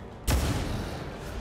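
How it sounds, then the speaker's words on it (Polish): Single pistol shot fired in the XCOM 2 War of the Chosen video game: one sharp, loud blast followed by a lingering low rumble, with no talking. "Ale możemy tu oddać strzał z pistoletu."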